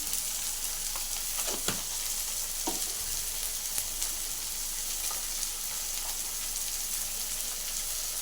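Chopped tomatoes, turmeric and salt fry in a pan for mung dal with fish head, giving a steady, dense sizzle with occasional stirring scrapes, close and continuous with no voices.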